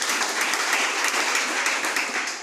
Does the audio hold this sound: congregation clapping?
yes